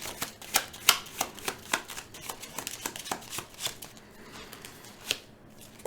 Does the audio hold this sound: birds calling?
no